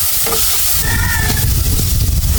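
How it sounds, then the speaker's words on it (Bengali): Onion paste, chilli powder and garlic paste fry in a hot pan for a prawn curry, a loud, steady, close sizzle and hiss with faint stirring scrapes and no talking. "সবগুলাকে ভালোভাবে তিন থেকে চার মিনিট পর্যন্ত কষিয়ে নিতে হবে"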